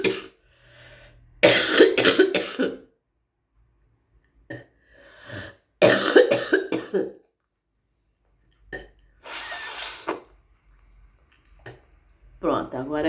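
A woman coughs and clears her throat in several short, wet bursts, close to the microphone, with quiet gaps between them.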